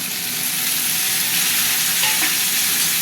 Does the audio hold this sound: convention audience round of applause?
no